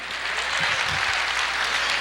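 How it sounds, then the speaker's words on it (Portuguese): Applause from a church congregation at a sermon, a dense steady wash of many hands clapping together, loud and continuous with a faint voice underneath. "Pode aplaudir."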